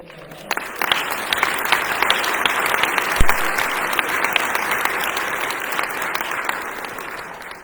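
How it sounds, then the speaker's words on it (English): A business meeting audience breaks into sustained, even applause lasting several seconds, many hands clapping together in a large room with a few sharper claps standing out near the start. "give a round of applause to their service"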